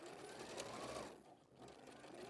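A sewing machine stitches a seam on a midi dress in a steady, close, continuous whir that dips briefly midway before resuming, with no talk.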